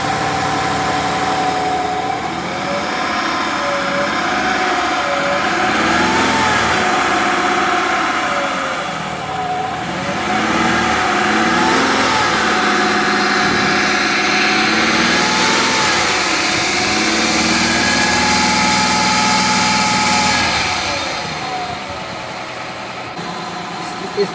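A Mazda MPV 3.0 minivan with a power-loss fault revs repeatedly under throttle, its engine note rising and falling in waves over a steady idle, loud and close, with a person talking over it at times.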